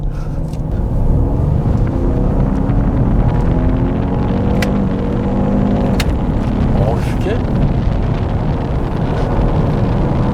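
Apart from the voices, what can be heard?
2022 Lincoln Nautilus 2.7L engine under full acceleration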